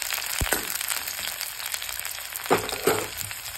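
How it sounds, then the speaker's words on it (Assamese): Onions and chilies sizzle and crackle in a hot pan for an Assamese jackfruit fry, a steady close frying hiss with a few sharper pops and stirring scrapes. "অকণমান পিঁয়াজবোৰ ৰঙচুৱালৈকে ভাজি ল'ম"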